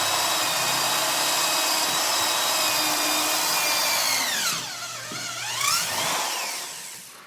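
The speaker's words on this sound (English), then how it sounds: "just drilled it right out of there." A 5/16 drill bit drilling out a stuck wooden dowel in a keel bolt hole, a loud steady high whine that dips and wavers in pitch near the end as the bit bites and the motor slows.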